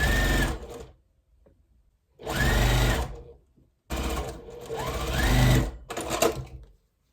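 A sewing machine stitches a quilt block in three close, loud bursts of rapid needle whirring, separated by brief silent pauses.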